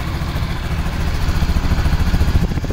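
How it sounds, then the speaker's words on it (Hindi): A Road Prince Bella 100cc scooter engine idles nearby, a steady low rumbling putter with light clatter that grows slightly fuller and more pulsing toward the end. "ये इसका कुछ साउंड है अभी क्योंकि ये आइडल पर खड़ी हुई है"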